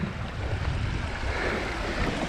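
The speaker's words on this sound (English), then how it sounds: "with a waterfall that flows into it." Storm-fed waterfall running off sea cliffs into a rock pool, a steady broad rush of splashing water mixed with surf and wind noise, continuous and fairly close throughout.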